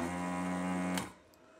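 A desoldering gun pulling vacuum runs a steady humming, buzzing tone during an iCharger S6 RC charger repair, then cuts off abruptly with a sharp click, leaving a quiet background.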